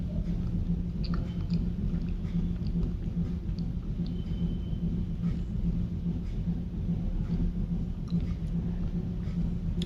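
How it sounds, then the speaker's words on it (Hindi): Steady close-up chewing of a whole banana, soft wet mashing that goes on without pause under a faint background hum, with no talking. "पूरा का पूरा केला चबा के दिखाऊंगी"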